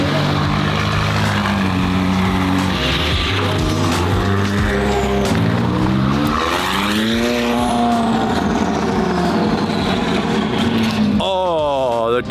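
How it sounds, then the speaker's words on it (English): Loud, close engine note of an orange McLaren supercar, rising and falling through revs with a whistling turbo spool layered over the drone, ending in a sharp high-pitched rush as the boost builds. "The turbo spool, it sounds so good."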